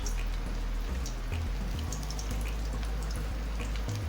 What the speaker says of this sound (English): you're just gonna go ahead and put them in the hot oil